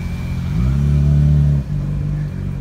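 A black car arrives with its mid-range engine droning steadily, then revving up and holding a high note before the pitch drops briefly and settles again. The sound is close and loud, with no voices.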